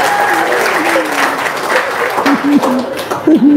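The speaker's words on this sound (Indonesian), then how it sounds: "Tepuk tangan dong." An audience applauds at a talk by a grocery trader, loud steady clapping with a voice speaking over the top and a few raised voices calling out toward the end.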